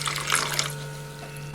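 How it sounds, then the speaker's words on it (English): Water is poured into a bowl in a home kitchen, a short splashing burst at the start that trails off, followed by a sharp clatter at the end. "now I'm going to pour some water in a bowl"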